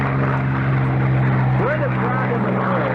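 A loud, continuous propeller-engine drone from a stock P-51 Mustang taking off at the 1990 Reno Air Races, with a voice talking over the engine.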